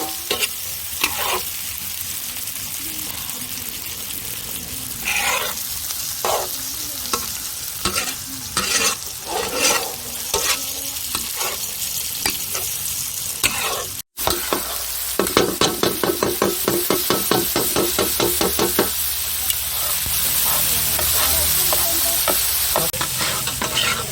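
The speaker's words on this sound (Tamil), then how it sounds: "நல்லா தக்காளி வதங்கிட்டு ஒரு பாத்திரத்தில் எடுத்து வச்சுக்கலாம்." Tomatoes sautéed and stirred in a pan, a loud, close sizzle with repeated rhythmic scraping of a spatula that quickens into fast strokes toward the end.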